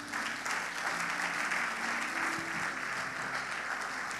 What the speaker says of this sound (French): acclamez-vous, acclamez